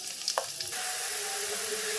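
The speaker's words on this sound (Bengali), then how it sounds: "রসুন আর পেঁয়াজ কুচিটা দিয়ে দিব।" Garlic and chopped onion drop into hot oil in a wok, with brief clatter and stirring at first, then a steady, bright sizzle of frying that holds evenly to the end.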